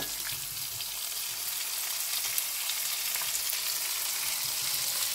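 Onion frying in a pan as the base for a traditional chicken stew, a continuous even sizzle at moderate volume with faint stirring, and no one speaking.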